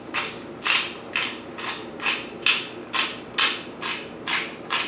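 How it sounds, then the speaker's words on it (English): A pepper mill grinds pepper in about ten evenly spaced, gritty crunching turns, close and fairly loud, with no talking. "Put a few grinds of pepper in."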